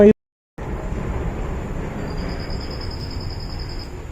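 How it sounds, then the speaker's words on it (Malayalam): A train rumbles past steadily after a brief silence, with a continuous broadband roar and a faint high-pitched whine. "ഇത് ട്രെയിൻ"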